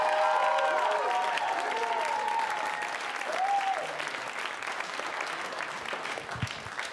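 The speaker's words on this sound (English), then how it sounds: "Give yourselves a round of applause." A comedy club crowd at a live stand-up show breaks into loud, sustained applause and cheering, a thick wash of clapping that gradually thins over several seconds while voices call out and music tones drift through.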